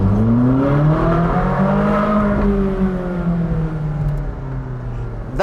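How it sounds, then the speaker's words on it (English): Ferrari 458 Speciale Aperta, a naturally aspirated V8 convertible, revving loudly and close by, its pitch sweeping up and down in smooth rising and falling waves before easing back toward idle. "when a kid asks you for a rev in a 458 Speciale Aperta, you do it."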